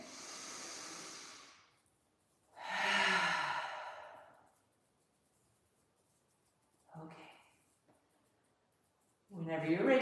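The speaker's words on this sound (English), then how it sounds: "And again, a deep breath in and out." Slow, deep breaths during a relaxing Pilates session on a mat: a long exhale, a fuller inhale-exhale, then shorter breaths, close and soft, with a quiet voice guiding between them.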